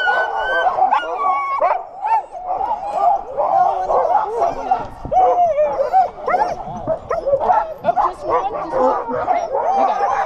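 A pack of sled dogs at a snowy dog-sledding outing in Pagosa, Colorado barks, yips, whines and howls continuously and excitedly, loud and close, a dense overlapping chorus of many animals with no pause.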